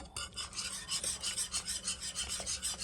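Quick rhythmic scraping of a utensil stirring carbonara sauce made from carbonara powder to break up lumps, about a dozen even strokes close up, with no voices.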